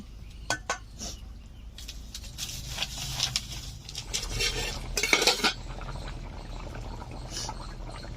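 Rohu fish curry being stirred and reduced in a pan in a Bengali village-style kitchen, with scattered metal spoon scrapes and clinks against the pan, a louder cluster of scraping midway, over a low simmering bubble.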